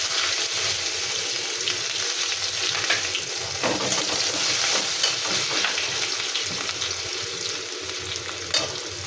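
Onion, green chili and a few cumin seeds frying in oil in a pan for a Bengali fish curry, a steady close hiss and crackle with occasional stirring scrapes, no voices.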